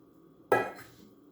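A single sharp clatter as a bread mixture is tipped into a bowl, with a bright dish-like knock that rings briefly and fades within about half a second, close and alone.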